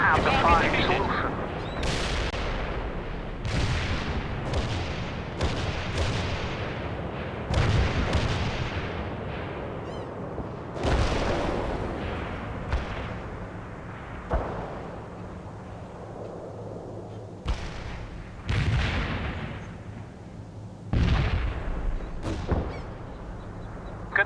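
Artillery fire in the strategy game World in Conflict, repeated heavy booming blasts at irregular intervals with long rumbling decays, under radio-style voice chatter.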